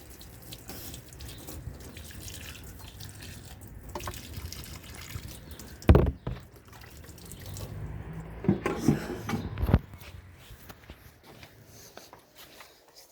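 Running water splashes and trickles as potted roses are watered indoors on a rainy day, uneven pouring with a few louder bursts and drips, close by and without talk.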